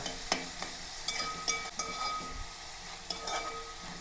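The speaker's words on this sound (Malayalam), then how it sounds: "അപ്പോൾ സവാളയും പച്ചമുളകും ഇഞ്ചിയും വെളുത്തുള്ളിയും എല്ലാം കൂടി ഒന്ന് വാട്ടണയാണ്" Onions, green chillies, ginger and garlic sauté in a pan with a low background sizzle. A spoon scrapes and knocks against the pan in short, uneven strokes that sound close by.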